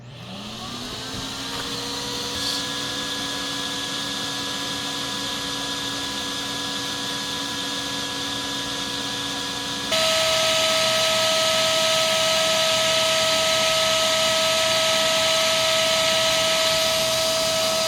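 A Numatic Henry NRV 200 vacuum cleaner spins up from silence to a steady whirring drone with a tonal motor whine, then jumps abruptly to a louder, higher pitch partway through and holds there.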